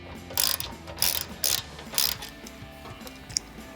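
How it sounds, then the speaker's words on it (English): A hand ratchet tightens a skid plate bolt behind the tow hook on a 2021-2026 Ford Bronco, making four close bursts of rapid clicking in quick succession, alone without talk. "And we'll snug up that bolt right behind the tow hook, driver's side."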